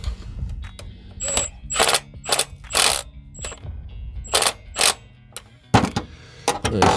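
A ratchet works on the timing belt tensioner of a 1985 Merkur XR4Ti, clicking in repeated close bursts of rapid pawl ticks separated by short pauses.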